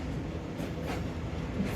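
The Sialkot Express runs along a railway line through countryside at dawn, a steady rumbling rush of wheels and carriages at moderate, fairly even loudness with no voices.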